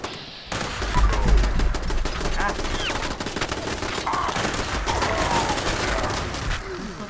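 Continuous rapid turret gunfire in Fallout 76, a dense, steady rattle of overlapping shots that keeps going for several seconds, with a voice talking over it.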